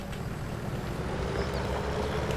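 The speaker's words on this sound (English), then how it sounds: "this is the maximum speed the tractor can pull it at" A tractor engine pulling a load at its maximum speed gives a steady, droning rumble that holds even and unbroken throughout, with no talk.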